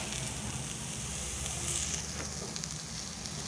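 Fish frying in a pan on a banana leaf, a steady, dense sizzle that holds loud and close from start to finish, with no voices over it.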